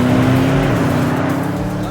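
A 2020 Porsche Panamera Turbo S drives on a racetrack, its engine and road roar loud, close and continuous with a steady droning tone throughout.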